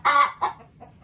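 A Marans hen gives a few loud, close clucks, two strong ones followed by fainter trailing notes.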